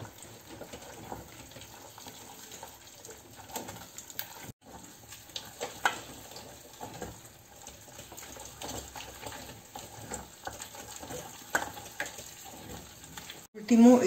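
Oil sizzles in a pan, a continuous fine crackling hiss at moderate loudness with a few sharper pops and a louder burst at the very end.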